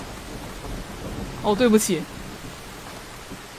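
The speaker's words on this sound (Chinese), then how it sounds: "这边打雷下雨的时候感觉好可怕" Steady hiss of heavy rain with low rumbling thunder in the horror video game Silent Hill: Downpour, with a brief burst of speech partway through.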